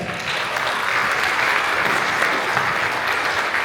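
Applause from an audience at a Nepal Night performance event, a dense steady wash of clapping lasting the whole moment, loud and continuous.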